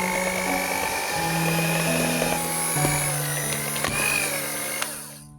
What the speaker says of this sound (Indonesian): Untuk mixernya aku pakai speed rendah.